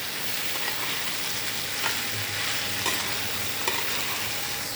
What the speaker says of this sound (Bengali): একদম ভাজা ভাজা করতে হবে।